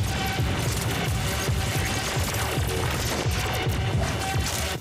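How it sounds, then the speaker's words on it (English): Rapid laser gunfire from the animated film Spider-Man: Into the Spider-Verse, a dense, continuous barrage of loud shots and impacts with no talking. "Are these like laser Star Wars guns?"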